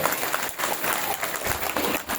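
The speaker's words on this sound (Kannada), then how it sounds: "ಅವರಿಗೂ ಕೂಡ ಜೋರಾದ ಚಪ್ಪಾಳೆ ತಪ್ಪೋದು ಮೂಲಕ" Audience at a religious discourse gathering breaks into loud applause, a dense steady clatter of many hands with a brief dip midway, mixed with faint crowd murmur.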